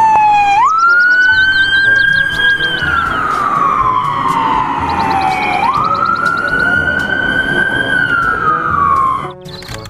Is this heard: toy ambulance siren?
yes